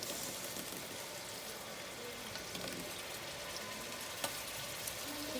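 Tomato paste sizzling in hot ghee, a dense, even crackling hiss like steady rain, close and continuous with no voices.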